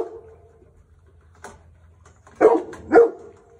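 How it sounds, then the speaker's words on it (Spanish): Two sharp Cane Corso barks close together near the end, loud and close, after a few seconds of near quiet with a faint low hum. "Ya está fuerte para ladrar."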